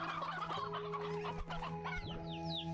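Chickens cluck and gobble in the video game Slime Rancher 2, a close, busy chorus of fowl calls layered over a steady hum of game ambience.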